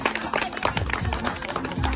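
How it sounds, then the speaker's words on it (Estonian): An outdoor village audience claps for little children at an evening gathering with a mini-concert, scattered, uneven hand claps with irregular rhythm, fairly close, mixed with background voices and bumps. "Teeme väikestel aplausi."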